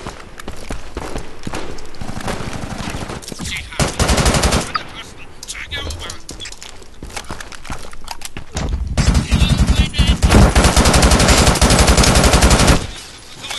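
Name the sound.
gunfire from a rifle in the video game Brink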